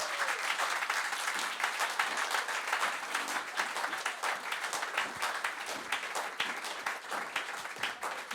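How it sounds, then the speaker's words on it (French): A church congregation at a worship service claps loudly and continuously, dense steady applause filling the room with no voices standing out. "Acclamons très fort le Seigneur Jésus."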